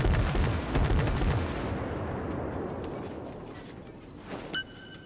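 Heavy naval gun salvos from a warship in the video game World of Warships, booming loudly at the start and rolling into a long fading rumble, with a faint chime near the end.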